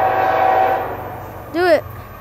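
CSX freight train passing close by, a steady low rumble and rolling rail noise, with a short loud horn blast rising late in the clip.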